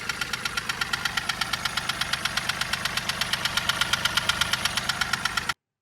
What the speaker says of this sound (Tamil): இந்த அப்நார்மல் நாய்ஸோட ரீசன் என்னன்னா ஒரு பிஸ்டன் வந்து ஒரு ஸ்லாப்பிங் நாய்ஸ் தான்